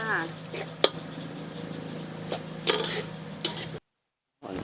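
Pork fries in chili paste with fish sauce, a steady sizzle broken by stirring scrapes and utensil knocks against the pan, with someone talking over it.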